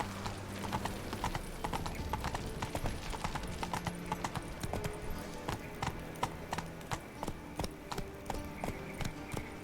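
Galloping horse hooves in a video game beat out a fast, steady clip-clop rhythm throughout, loud and close, with a brief whinny.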